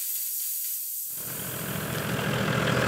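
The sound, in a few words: air hissing out while deflating 4WD tyres for sand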